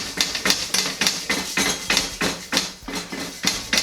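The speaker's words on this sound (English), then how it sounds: "you're going to go in with the chives and rub them on your wok like this" A metal ladle or chives clatter rhythmically against a wok during seasoning, close and sharp, about two scraping knocks per second with no talking.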